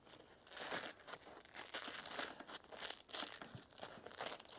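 Velcro strip being pulled loose from a tactical protective vest, a dry crinkling, tearing rasp that runs steadily and fairly close for several seconds with no talk.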